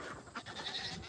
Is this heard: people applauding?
no